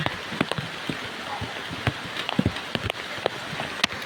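Steady rain falls on a garden during a storm, a close, even hiss of drops with scattered sharper patters on leaves and surfaces, no voices.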